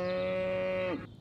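A cow in the video game Destroy All Humans! gives a single long, steady moo, close and clear, which drops off abruptly at the end.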